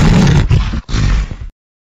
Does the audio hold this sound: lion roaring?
yes